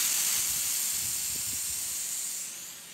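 A 200W pulsed laser cleaning machine stripping rust or paint gives a steady, close, bright hiss with a faint crackle beneath. It runs alone at an even level and eases off slightly near the end.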